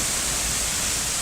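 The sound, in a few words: waterfall on the Lover's Lane trail at Watkins Glen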